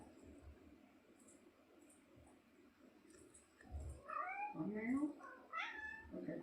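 A pet cat meows several times indoors, soft high cries in a short cluster toward the end, with faint room noise and a person speaking quietly.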